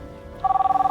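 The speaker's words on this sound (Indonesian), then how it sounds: "Bentar, ada telepon." A telephone starts ringing abruptly, a loud, close, steady pulsing electronic ring that repeats rapidly after a moment of quiet room tone.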